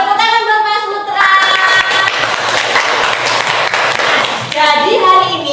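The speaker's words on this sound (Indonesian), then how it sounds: "Tepuk tangan buat Mas Putra" Children in a classroom clap for Mas Putra, a burst of mixed clapping heard under loud talking and chanting voices.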